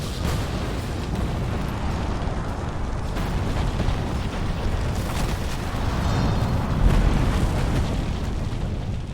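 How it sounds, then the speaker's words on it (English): Grenade explosions in the Resident Evil 3 video game: a loud, continuous rumbling roar of overlapping blasts that swells slightly near the end, with no talking. "Yeah, grenades totally fine, right? Because they're a different kind of explosion."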